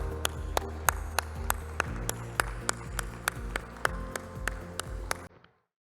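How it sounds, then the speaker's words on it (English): Audience applause at a professional accountancy congress ceremony, steady clapping with sharp individual claps standing out, lasting about five seconds before stopping abruptly. "Let's have a big round of applause"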